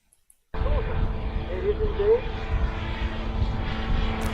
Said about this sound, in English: So now you can hear the bzz plane noise.